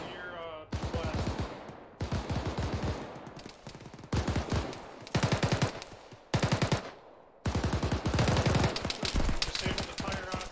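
Bursts of automatic gunfire in an Arma 3 firefight against a Mark 19 grenade launcher position, loud rapid volleys in several separate strings with short gaps between, some distant shots in the lulls.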